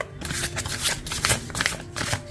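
Tarot cards being shuffled by hand in a steady, close riffling and rustling run that continues for a couple of seconds with no talk.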